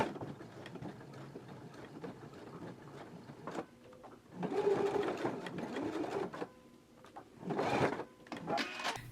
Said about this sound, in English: Once you have them all pinned, we can take them to the machine and we can edge stitch right along the top of the carriers.